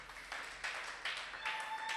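Congregation clapping along during a church worship service, a steady run of hand claps in several bursts of rising and falling loudness, with faint voices in the background.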